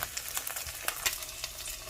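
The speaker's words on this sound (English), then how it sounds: "Oh, hear the sizzle." Food sizzling in a hot skillet, a faint, steady crackling hiss with scattered small pops, heard alone without talk.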